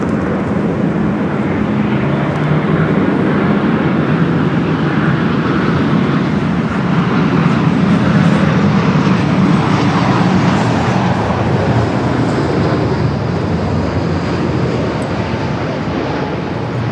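An airplane passing at LAX airport, heard as a broad, steady jet roar that stays loud and even throughout, with no voices over it.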